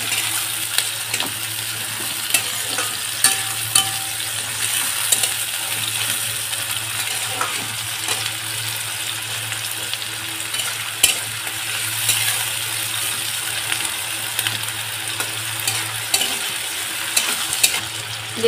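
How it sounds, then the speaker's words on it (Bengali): Onions sizzle steadily in plenty of mustard oil while a utensil stirs and scrapes the pan, with scattered clinks over the continuous frying hiss. "আমার পেঁয়াজটা হালকা বাদামি করে ভেজে নেওয়া হয়ে গিয়েছে"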